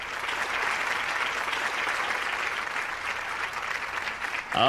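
A studio audience at a courtroom-style celebrity talk show claps in a steady, dense wave of applause that holds for several seconds, then fades as it ends.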